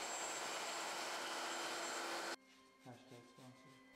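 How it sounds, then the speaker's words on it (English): Shaper Origin handheld CNC router carving a design into the centre of a walnut shuffleboard table's playing surface, a loud, steady broadband whine that cuts off abruptly midway, leaving quieter workshop sounds. "Again, the origin is brought out to carve a design in the middle of the playing surface, as Keith is seen playing on the lathe"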